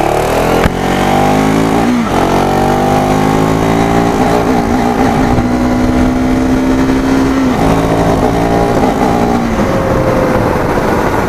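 A KTM 390 Adventure motorcycle engine revs loudly up and down through several climbing pitch sweeps, with abrupt cuts and jerks as the quick shifter acts, close and continuous with no talk.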